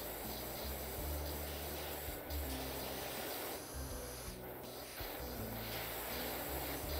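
Pressure washer spray in the game PowerWash Simulator, a continuous broad hissing jet that runs the whole time with slight dips and surges, heard close and steady with no talking.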